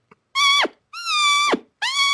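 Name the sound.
lip squeak imitating a mouse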